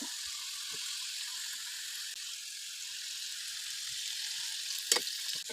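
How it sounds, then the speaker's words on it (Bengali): Potato sticks for French fries frying in hot oil, a soft, even bubbling sizzle heard close and fairly quiet, with one brief clink near the end and no talking. "আলুগুলো তেলে ভালো করে ভেজে নেব"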